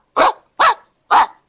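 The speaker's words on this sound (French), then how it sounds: "le quarterback aboie ses signaux" Three loud, evenly spaced dog-like barks from a cartoon football quarterback calling signals, close and punchy with clean silence between each bark.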